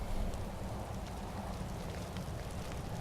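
Rain falls in the fantasy video game Skyrim, a steady hiss of drops spread evenly over a low rumbling backdrop, quiet and continuous with no voices.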